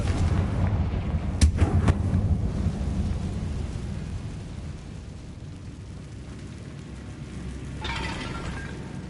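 A Confringo blasting spell in Hogwarts Legacy on PS5 fires off with sharp, booming explosive cracks near the start, followed by a rumbling, rain-like wash of ambient noise that fades slowly.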